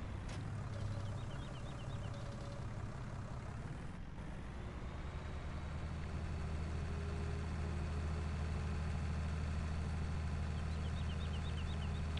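Farm tractor engine in a farming simulation game, a low steady diesel drone under load that shifts pitch after a few seconds and then holds a constant heavy rumble, with no talking.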